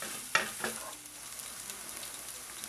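Chopped half onion sautéing in a pan and being pushed around with a small spoon: a couple of sharp scraping strokes at the start, then a steady close sizzle.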